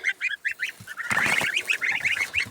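Goslings honk in a rapid run of short, bright calls, sparse at first and then dense and overlapping as more join in, close by and clear, with no talking.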